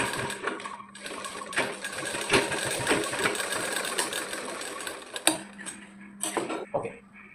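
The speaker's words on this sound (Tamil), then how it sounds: "இது மேலே ஒரு தையல் ஒன்று அடிச்சுக்கலாம் அதே மாதிரி இன்னொரு பட்டி அடிச்சுட்டு பார்க்கலாம்" An electric sewing machine runs in bursts while stitching a child's petticoat top: a steady mechanical whir with rapid needle ticking that starts and stops between short pauses, close up, with no talking.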